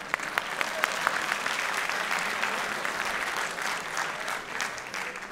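A stand-up comedy audience on a Turkish televised talent show breaks into dense, sustained applause that stays loud and even throughout, with a few sharper claps standing out near the start.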